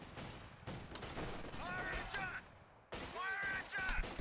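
Carbine gunfire in a World War II strategy video game, rapid bursts of shots with explosions and battle noise, fairly loud, with brief pauses between volleys.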